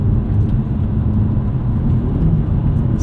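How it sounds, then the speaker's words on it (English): A 2022 Hyundai Elantra N, heard from the cabin as it downshifts from third to second gear with rev matching: a steady, loud engine and road rumble that holds close and constant throughout. "So I'm in third gear now. I go to second."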